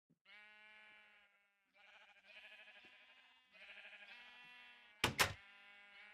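Sheep in the Minecraft video game bleat in three long, wavering cries one after another, followed by a sharp, loud burst near the end.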